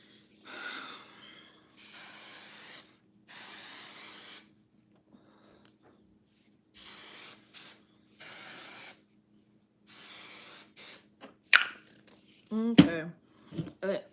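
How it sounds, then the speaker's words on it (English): Verb Ghost Dry Oil sprayed onto hair in several bursts of bright, hissing spray with short pauses between them, close and fairly loud, followed by a few brief handling noises. "we're gonna spray our Verb Ghost Dry Oil on there"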